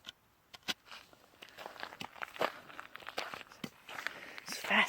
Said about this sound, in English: Sounds like I'm walking on cornflakes.